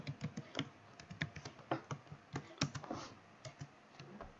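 Typing code on a computer keyboard, a quick irregular stream of close, crisp key clicks and taps with no talk over it.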